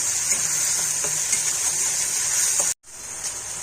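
Food sizzles loudly and steadily as it is stir-fried in a pan for a dahi katla and dal meal, then the hiss cuts off abruptly for a moment before resuming.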